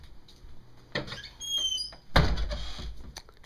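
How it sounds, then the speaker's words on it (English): A door swings and bangs shut nearby, with a squeaky creak and a soft thud, then a brief rattle. "I should probably close the door so the dogs don't get her."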